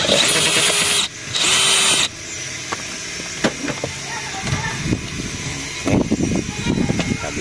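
A power tool whirs in two loud sustained bursts, then scattered clicks, knocks and ratcheting taps follow while work continues on a car's aircon cabin air filter.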